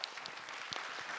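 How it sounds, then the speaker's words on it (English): Applause from a keynote audience at a connectivity industry conference, a steady wash of many hands clapping heard alone at moderate level for about a second. "I'd like to give a round of applause for their contribution."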